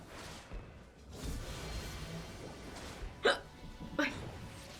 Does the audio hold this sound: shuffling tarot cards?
no